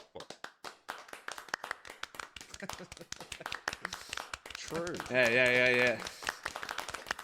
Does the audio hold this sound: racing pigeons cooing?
no